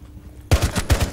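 Gunfire in the Rainbow Six Siege video game: a sudden loud burst of several rapid shots after near silence, rattling off close together like a short automatic volley.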